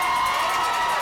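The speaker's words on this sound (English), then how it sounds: "And this crowd is excited" A crowd at a high school football playoff game cheers loudly in a brief, continuous roar of massed voices.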